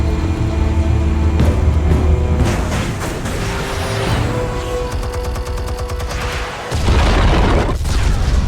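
Explosives detonate in Batman: A Telltale Series, a string of heavy booms and blasts with rumbling low end and clattering debris, loud and continuous, ending in a renewed deep roar.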